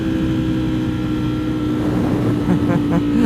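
A 2020 Streetfighter motorcycle with a full Akrapovič exhaust running hard on a dyno, a loud steady engine roar with a rising rev near the end, captured close with some wind noise.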